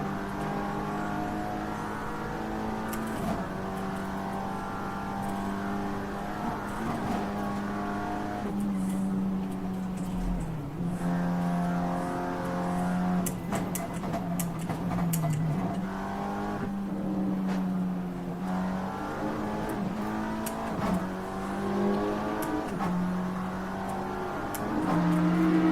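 An Aston Martin race car lapping the Nordschleife during a two-hour race, heard from onboard with a loud, continuous engine note that climbs through the gears, with repeated sharp upshifts and lifts into corners.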